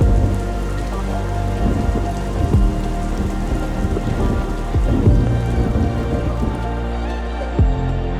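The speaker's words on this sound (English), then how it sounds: "A long day of rain was heading towards us" Heavy rain pours steadily on a surface, with low rumbles of thunder rolling through now and then; no voices.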